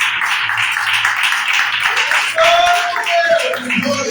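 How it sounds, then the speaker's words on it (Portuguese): A church congregation claps for Jesus in a steady, even beat of soft, distant applause, with a voice and some singing tones rising over it. "Glorifica o Senhor com palmas bem alegres para Jesus"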